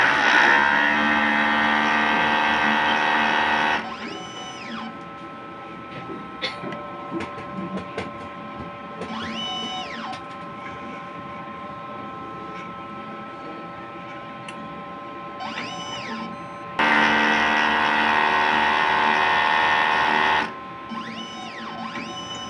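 A printer runs a print head cleaning cycle: loud stretches of steady mechanical whirring alternate with quieter passages of rising and falling motor whines and small clicks as the mechanism shifts.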